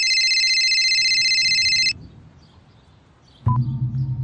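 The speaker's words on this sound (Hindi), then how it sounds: "तभी मेरा फोन बजा।" A mobile phone rings with a loud electronic tone for about two seconds, then falls quiet before a short beep and a burst of louder sound at the end.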